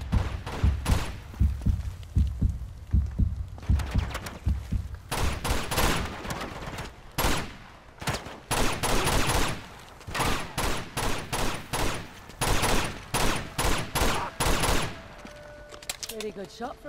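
Rapid bursts of Uncharted 2 gunfire, sharp repeated shots and volleys in irregular clusters, loud and close, with muffled thumps between them.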